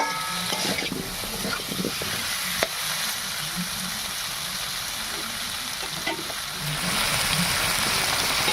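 Papaya, potato and soybean sautéing with spices in a pan, a steady loud sizzle with stirring scrapes and clinks running throughout, no voices.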